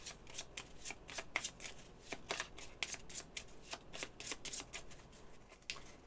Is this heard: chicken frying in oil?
no